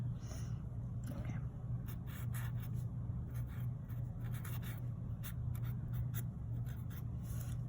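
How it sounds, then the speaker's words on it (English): A marker scratching out a name on a dry surface, with rapid close strokes over a steady low background hum. "you can take a marker and then you can write your name"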